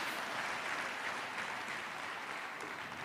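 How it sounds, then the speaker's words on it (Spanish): Worshippers in a church give the Lord a strong round of applause, a steady, fairly distant wash of many hands clapping that continues evenly without pauses. "Dele un fuerte aplauso al Señor"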